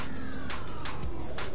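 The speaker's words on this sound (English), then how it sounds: "a Lamborghini police car, unbelievable" A Lamborghini police car's siren wails in Euro Truck Simulator 2, set on Italian roads, with a loud, steady two-tone pattern repeating over constant engine and road drone.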